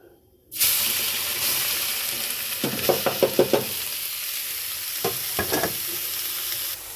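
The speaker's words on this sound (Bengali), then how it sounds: "এবারে দিয়ে দেবো গাজরগুলো।" Carrots hit hot ghee with a sudden loud sizzle that continues steadily, broken by two bursts of rhythmic scraping as a utensil stirs them around the pan.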